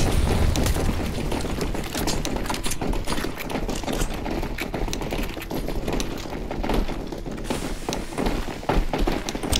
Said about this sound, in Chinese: 贴着门开枪，贴着门开枪。